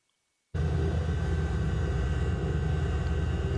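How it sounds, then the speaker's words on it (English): Piston engines of a PBY Catalina seaplane taxiing out, heard from inside the cabin: after a brief silence a loud, steady droning roar starts abruptly and holds constant, deep and rumbling. "And this is when we're just starting to taxi out."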